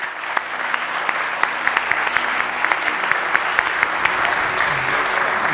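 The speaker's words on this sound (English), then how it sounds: "I would like you all to join me in a round of applause for Commodore Santarpia" An evening audience applauds Commodore Santarpia after his talk on counter terrorism at sea, a steady, moderately loud wash of many hands clapping with a few sharper claps standing out, sustained for several seconds.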